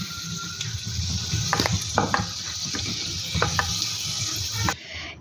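Potato peels fry in hot oil, giving a steady soft sizzle and bubbling throughout, broken by a few sharp clinks of a utensil against the pan, ending abruptly.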